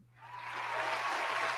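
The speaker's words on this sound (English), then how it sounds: "Round of applause for Triple H" Applause for wrestling figure Triple H swells from silence into a steady, moderately loud wash of clapping, with a low hum running underneath.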